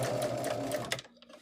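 A sewing machine runs a quarter-inch seam on a quilt top, a short close burst of rapid rhythmic stitching that stops abruptly after about a second.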